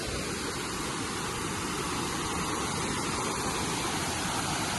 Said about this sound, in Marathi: आणि हा धबधबा